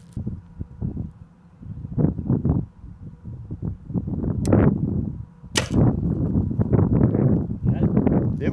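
An arrow is shot from a bow on a windy 3D archery course in Louisiana at about 120 yards, a sharp release followed by a faint distant impact, with outdoor rustle and wind noise and people talking nearby.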